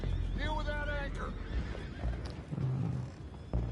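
A horse whinnies in a long, wavering neigh in Red Dead Redemption 2, followed by softer snorts and shuffling; people talk alongside the sounds.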